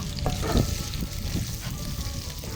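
An egg fries in hot oil in a pan alongside chili and garlic, making a loud continuous close sizzle with a few scraping stirs.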